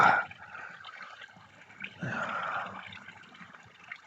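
Water poured into an empty fish tank, heard as a short splash at the start, then a soft trickle and gurgle that swells and settles, fairly quiet and close with no voices.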